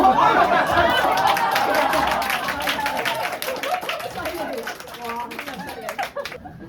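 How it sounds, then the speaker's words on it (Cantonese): An audience at a Cantonese stand-up comedy show in Hong Kong claps loudly at first, then the applause thins and fades under crowd chatter and a voice talking. "拍手。"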